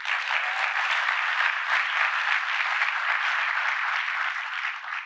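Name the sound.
crowd applauding and cheering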